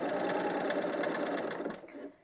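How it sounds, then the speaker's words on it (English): A BERNINA L 890 sewing machine runs fast, stitching a shoulder seam on a knit top, with a steady, even mechanical whir that slows and stops near the end, heard close and alone. "you'll have no trouble sewing over that. That's not going to phase the machine at all."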